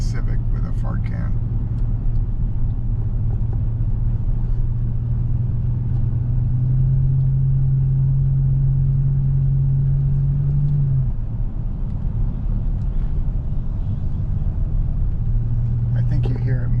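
A Toyota Land Cruiser Prado 90 with a four-cylinder engine idles with a low, steady exhaust rumble and a slight rise in pitch midway, while a person talks over it throughout.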